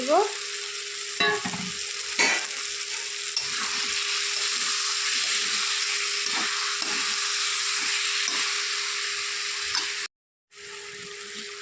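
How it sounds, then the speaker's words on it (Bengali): Broth is poured into a hot pan of tomato and egg curry, followed by a continuous, even sizzle and bubbling with a faint steady hum and a few soft knocks, no voices. "এখন দিয়ে দিচ্ছি ঝোল"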